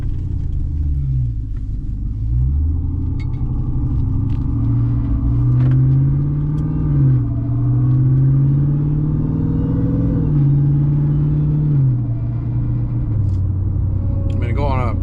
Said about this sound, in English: let's take this truck for a spin